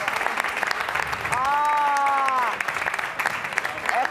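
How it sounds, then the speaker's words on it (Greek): A TV studio audience at a Greek music tribute show claps steadily for the orchestra, a dense sustained applause with a held sung or voiced tone briefly rising above it in the middle. "Δεν έχουμε χειροκροτήσει για την ορχήστρα."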